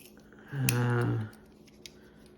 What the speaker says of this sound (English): These scissors, maybe cut paper.